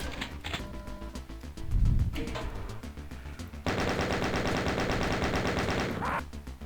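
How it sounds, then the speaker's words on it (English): Chaingun fire in the Doom-style game Deadlock on Amiga, a rapid continuous burst of rattling shots lasting a few seconds after scattered earlier shots and game sounds. "that'll probably let me own the other chain gunners and get the chain gun for myself"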